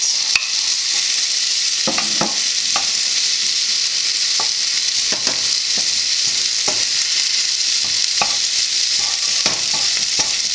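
Tomato goes into a pan of browning meat, garlic and onion for stuffed zucchini, setting off a steady, close frying sizzle with occasional spoon scrapes and stirs, no voices.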